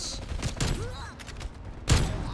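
Akimbo Plague Diamond pistols in Black Ops fire at a wall in a couple of sharp, close bursts, one early and one near the end, with faint voices and game sounds in between.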